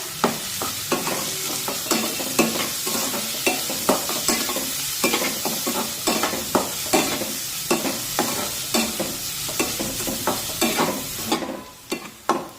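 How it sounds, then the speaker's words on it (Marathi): Finely chopped onions sautéing in oil in a pan, a continuous sizzle broken by regular scraping stirs of a spatula, close and fairly loud, with no one talking; the stirring stops near the end. "हा कांदा छान तांबूस रंगावर परतून घेऊया"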